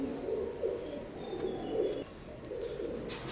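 Adult Omani teddy pigeons give low, throaty coos in a regular pulsing series, each rolling phrase fairly quiet and close against a faint hiss, with a brief pause midway.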